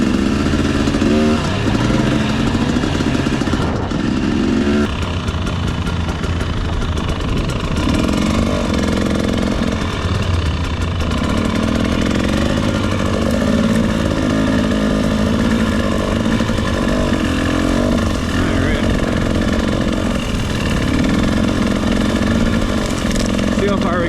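A dirt bike engine revs and labours continuously during a hill climb along power lines, loud and rough with shifting throttle, with voices mixed in at times.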